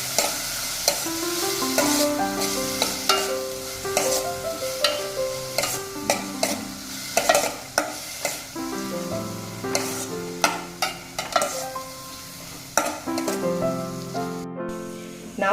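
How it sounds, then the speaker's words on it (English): Chopped onion with slit green chilies frying for a Goan caldine curry, a steady close sizzle broken by repeated scrapes and clinks of a stirring spoon against the pan, with no voices. "Now we will fry this onion till they are nice golden brown in color."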